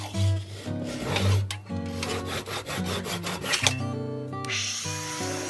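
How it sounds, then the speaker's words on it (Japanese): Rhythmic rasping strokes of a handsaw cutting off a protruding glued wooden plug, steady back-and-forth scraping with some tonal hum beneath. "あとはノコギリで出っ張りを切り落とします。"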